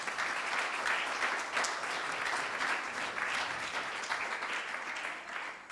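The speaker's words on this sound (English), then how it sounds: "You can welcome her also with an applause" Audience applause fills a hall at a youth programme anniversary event, steady dense clapping sustained throughout at an even level, with faint voices underneath.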